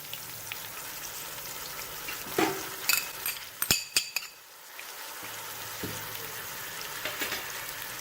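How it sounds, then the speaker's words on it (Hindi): Tomatoes frying in a pan with garlic and ginger for a beef pulao give a soft, steady sizzle, broken by a few sharp clinks of a utensil midway, with no talking. "टमाटरों को फ्राई करेंगे"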